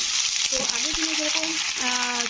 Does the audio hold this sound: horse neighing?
no